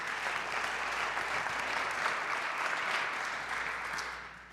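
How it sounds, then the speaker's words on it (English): A crowd applauds steadily for several seconds, a dense wash of clapping that fades slightly toward the end. "we can send out a round of applause to them in Thanksgiving"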